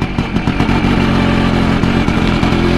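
A WSK 125 motorcycle engine runs close and loud, a continuous rapid two-stroke putter with rhythmic clattering pulses and no pauses.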